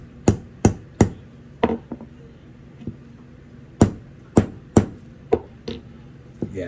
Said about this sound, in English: I might actually have to tap this a little bit with a hammer on top just to set it.